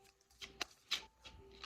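Tarot cards shuffled by hand, a few quiet papery riffles and soft slaps in an uneven rhythm, close by with faint room tone and no talking.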